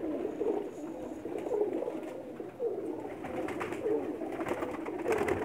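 Pigeons coo in a rooftop loft in a village near Sarai Alamgir, Pakistan, giving soft, repeated rolling calls at a steady rhythm over faint background noise.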